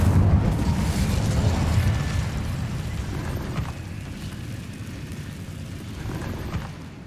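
A fire spell cast in a Hogwarts wizarding video game erupts as a loud, sustained roaring whoosh that slowly fades over several seconds, with no talking.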